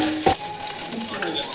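Soya chunks and onion sauté in a pan with a steady, close sizzle, and one brief clatter of a spatula against the pan near the start.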